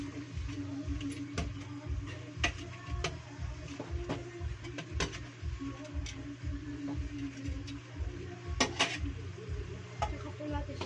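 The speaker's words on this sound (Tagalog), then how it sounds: "Haluin lang po natin." Ginataang langka (jackfruit in coconut milk) with small talangka crabs, Bicol style, stirred in a pot: steady, rhythmic stirring strokes with occasional sharp metal clinks, close and moderately loud.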